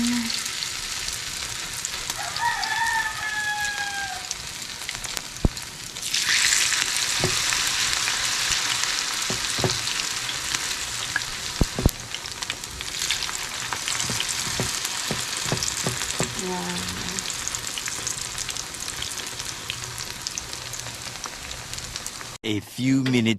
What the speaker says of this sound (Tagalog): nagpainit na po tayo ng mantika. Magsasak lang na po tayo ng ating ukoy na papaya na may hipon